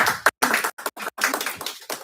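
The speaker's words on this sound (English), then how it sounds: "Please a round of applause for our very own founder." A small audience claps in a short round of applause for the founder at a GAH Elite Series event, with bursts of clapping broken by brief gaps, fairly close and loud, with no talk.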